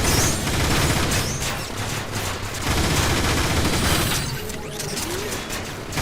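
Dense, loud gunfire from the video game Transformers: War for Cybertron, with continuous bursts and explosions that barely let up across the whole stretch, and a faint voice briefly heard in the mix.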